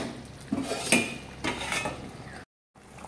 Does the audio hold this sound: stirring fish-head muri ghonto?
yes